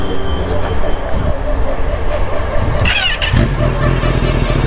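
A Kawasaki ZX10R motorcycle fitted with a dB killer idles and blips its engine close by, a lumpy uneven burble with a sharper rev near the end, amid other bikes and a talking voice.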